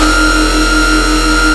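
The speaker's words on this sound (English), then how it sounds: "these kind of very layered up sounds like this Hyper Beam" Layered dubstep bass sample for melodic riddim, a dense sustained growl with stacked harmonic tones holding steady and loud for about a second and a half before cutting off abruptly.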